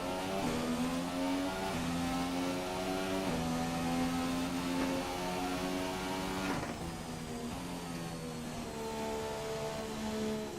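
Formula 1 car engine in the F1 2017 racing game, driving in career mode at the Monaco Grand Prix in a McLaren, running in lean mode; a loud, steady high-pitched whine climbs through repeated gear shifts, continuous throughout with no talk.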